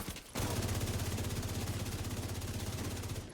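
Automatic gunfire in The Division 2: a sustained, rapid burst of evenly spaced shots lasting about three seconds after a brief quiet start, steady and dense, with no talk over it.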